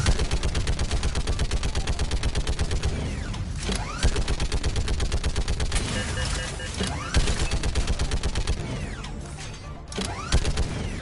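Rapid, continuous turret gunfire from the Mass Effect 3 Legendary Edition video game, dense mechanical bursts rattling loudly throughout with brief dips, layered with game effects and no talking.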